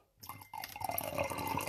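Tea being poured into a cup to top it off during a live tasting, a soft continuous liquid stream with small drips building steadily after a brief silent start.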